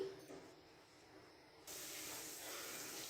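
Green chilli with garlic-ginger paste frying in a pan, a faint steady hiss that suddenly jumps louder and brighter partway through, then sizzles on evenly with no talking.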